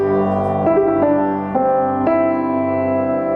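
Piano chords of the harmony line from a song change roughly every half second, each new harmony struck cleanly and sustained into the next, soft and close with no voices.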